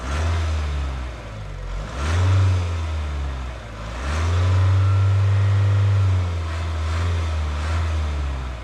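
A 2023 Mahindra Scorpio engine runs with a smooth, steady low hum, swelling into three distinct revs that rise and fall, alone without talk.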